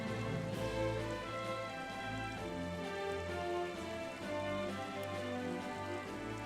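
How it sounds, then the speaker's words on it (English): Steady rain falls during a battle in the video game Triangle Strategy, a soft continuous patter mixed under music with no talking. "It's just, it rains."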